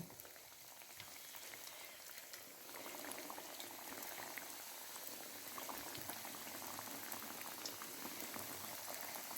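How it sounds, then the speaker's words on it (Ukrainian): Pies with halva filling fry in oil in a heated pan, giving a faint, continuous bubbling sizzle that holds steady throughout with no talking. "І зараз на розігріту сковородку, олію і жаримо."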